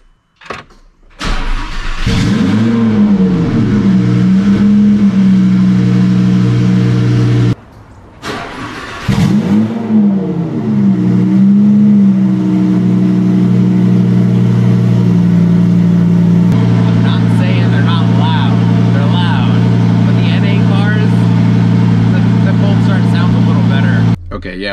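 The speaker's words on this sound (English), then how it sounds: "quick cold start, twin turbo Lamborghini Huracan" A twin-turbo Lamborghini Huracan cold-starts in a small garage with a starter crank and a loud rev flare. The engine cranks twice and then settles into a steady, subdued high idle that stays close and loud throughout.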